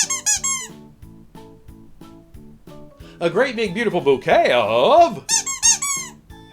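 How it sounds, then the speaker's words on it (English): A squeaky toy lets out several bright, high rubbery squeaks, some rising and falling in pitch, mixed in with lively talking close to the listener. "we found your squeaky toy"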